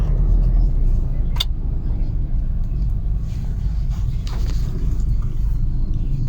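Heavy road traffic on a busy day before a holiday, a constant low rumble of car engines heard from inside or beside a vehicle, with a couple of brief sharp noises over the drone.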